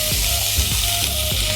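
Onions hitting hot oil with popped mustard and fenugreek seeds, a loud, dense sizzle with faint stirring knocks throughout.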